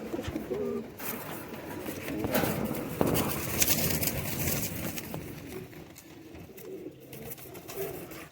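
Kabuli high flyer pigeons, including females, coo softly and repeatedly at close range over faint background rustling.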